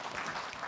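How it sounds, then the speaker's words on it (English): A short, dense burst of clapping from a group, steady and lively throughout. "let's give just a snapping round of applause"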